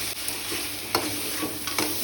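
Paneer cubes stirred with cumin powder and spices in a pot, a constant close sizzle broken by a few sharp spoon scrapes against the metal.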